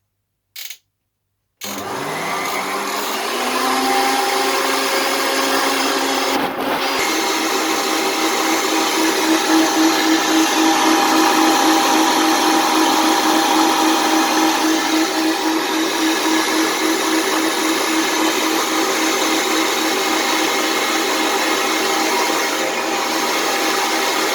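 A high-speed mixer whirs loudly and steadily, beating gluten- and dairy-free cake batter, following a brief click and a short silent pause at the start.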